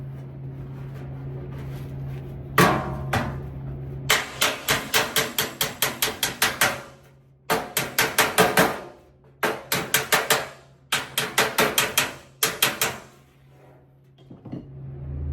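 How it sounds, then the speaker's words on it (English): Rapid bursts of metallic hammer-and-dolly blows ring out on a car fender's sheet metal, grouped in quick rhythmic runs separated by short pauses. "hammering and dolly in action."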